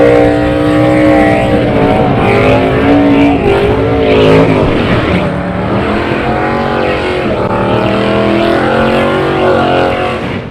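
Drag racing cars including a Camaro at a national open event roar down the track, loud sustained engine tones sweeping in pitch as they pass, continuous high-revving power over the full stretch with no voices.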